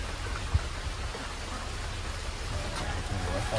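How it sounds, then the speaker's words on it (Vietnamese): Rain falls steadily around a home as a soft, even hiss of drops that holds at a moderate, unchanging level with no voices over it. "Trời mưa rồi nhà"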